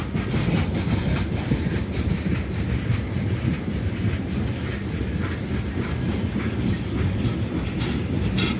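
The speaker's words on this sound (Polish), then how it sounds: "LHS, łamiąc prawo o zgromadzeniach, puszcza pociąg przez miejsce" An LHS freight train rolls past a farmers' protest site in Durdy, its wheels clattering steadily over the rail joints in a continuous loud rumble, with no voices heard.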